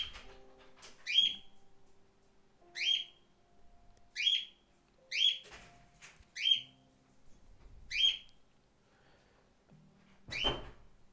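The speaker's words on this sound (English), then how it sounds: "get ready for the bird to go crazy" A pet bird indoors at home repeats short, sharp whistled calls about every one to two seconds, with faint household clatter and low thuds between them.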